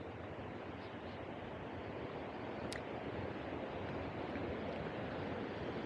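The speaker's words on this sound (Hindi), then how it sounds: "आवाज़ तेज़ होती जा रही है जनाब उसकी, फॉल्स की." A steady, dense roar of waterfall falls heard from nearby, loud and unbroken throughout with a faint whooshing character and no talk.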